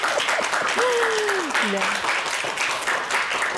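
Studio audience applause at a Korean morning talk show fills the background as a steady wash of clapping, while a voice briefly speaks over it near the start.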